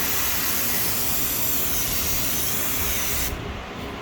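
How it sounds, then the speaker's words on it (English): A steady, close hiss of a budget 2-in-1 pump sprayer/foamer misting continuously for a few seconds, then cutting back to a softer spray. "This one's got a nice spray pattern."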